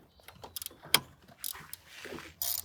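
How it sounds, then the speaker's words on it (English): A factory screw on a trolling motor mount is worked loose at close range, producing short metallic clicks and ratcheting scrapes in uneven bursts, with no talking. "Now I need to unscrew the factory screw."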